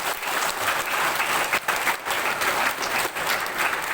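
A church congregation at a Christmas service in Wamena claps loudly and continuously, a thick close wash of hands with no talking over it.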